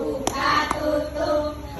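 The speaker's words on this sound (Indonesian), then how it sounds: "Tepuk tangannya 2 kali" Two sharp hand claps ring out less than half a second apart, close and distinct over a soft background hum, during a school class's educational visit to YIARI.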